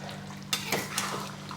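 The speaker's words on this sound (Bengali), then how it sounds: "নেড়ে মিশিয়ে দিচ্ছি" Fish aloo ghati with chopped coriander being stirred in a pan: a few soft scraping and clinking strokes of a utensil against the pan over a steady low background hum, close and fairly quiet.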